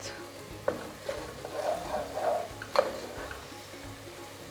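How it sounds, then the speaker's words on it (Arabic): Flour frying in oil with pasta in a home kitchen pan, a soft continuous sizzle broken by scraping stirs and small clinks of a utensil, close and fairly quiet. "هلا بدي إنه الطحين يتقلى معهم"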